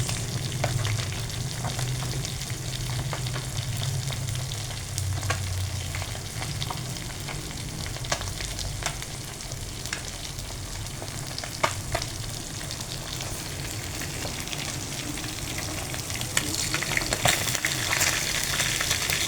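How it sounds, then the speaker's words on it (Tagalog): Galunggong fish fry in hot oil with a dense, continuous sizzle and crackle, spattering close by without pause. "Tumatalsik na. Balik na rin natin ang ating pritong galunggong."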